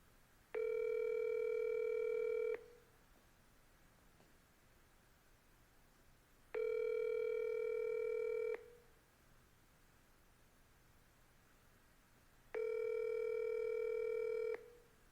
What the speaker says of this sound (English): Let's smile and dial.